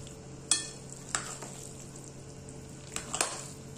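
Pasta with broccoli and a little olive oil being stirred in a pan, a quiet sizzle under a few sharp scraping and clinking strokes of the utensil, spaced irregularly and close.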